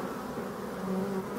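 Honeybees buzzing around hives packed with honey during a strong nectar flow, a dense, continuous swarm hum, close and steady, with individual bees' whines rising briefly above it.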